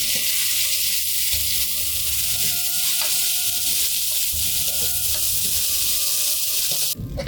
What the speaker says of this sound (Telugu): ఎండి రొయ్యలు అయితే వేసుకొని వేయించుకుందాం దోస్తులు నూనెలో మంచిగా ఎంచుకోవాలి